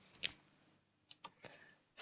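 Mouse clicks while selecting items in a Roblox game: a handful of sharp, quiet clicks spaced irregularly over near-silence, with no talking.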